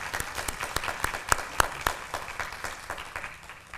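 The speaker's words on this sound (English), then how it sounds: "Could we please give her another round of applause?" An audience at a New Orleans public forum gives a round of applause, a steady patter of many hands clapping with a few sharper claps, moderately loud and fading slightly toward the end.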